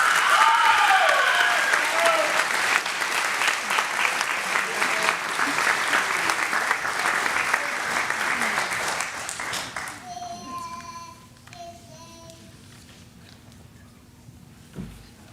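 Loud, sustained applause from a graduation ceremony audience at Lancaster County Academy fills the hall for about ten seconds, then fades into a quieter room with a voice speaking.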